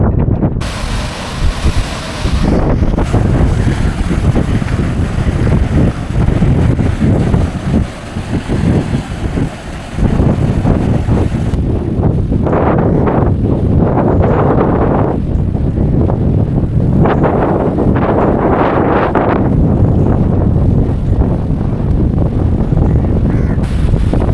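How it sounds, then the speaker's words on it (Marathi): Loud, constant wind buffeting roars across the microphone on a motorbike ride through rain on the Konkan coast, with a steady rushing noise of rain and motion throughout and no voices. "पावसाचे थेंब आहेत ना जोरात वाऱ्याने अगदी डोळ्यावरती मारत आहेत."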